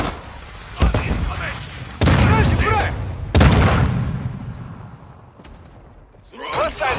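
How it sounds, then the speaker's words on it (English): A mortar strike in Call of Duty Warzone 2 brings three heavy booming impacts about a second apart, each with a long rumbling decay, while game voices and player chatter run underneath and rise again at the end. "Hostiles launch a mortar strike."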